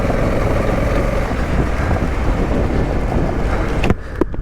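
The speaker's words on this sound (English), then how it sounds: "So sorry about the wind today. It's pretty gusty out here." Gusty wind roars and buffets steadily across a Honda Africa Twin motorcycle ride on sandy, puddled off-road ground, a dense continuous rumble with sharp bumps and clicks near the end.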